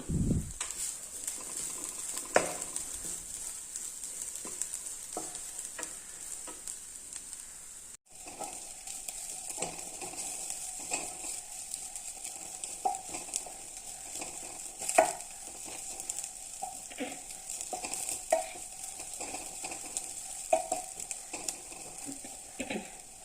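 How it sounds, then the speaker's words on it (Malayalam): Crushed coconut and onion sauté in a pan with a soft, continuous sizzle and light stirring taps throughout, fairly quiet and close, with no voices. "തേങ്ങയും ഉള്ളിയും ക്രഷ് ചെയ്തെടുത്തത് നന്നായിട്ടൊന്ന് വഴറ്റിയെടുക്കാം"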